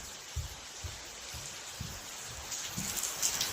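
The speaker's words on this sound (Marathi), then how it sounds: "गाईज बघा किती बाहेर पाऊस पडते" Heavy rain falls outside, a soft, steady patter with occasional heavier drops striking a surface, fairly faint and continuous.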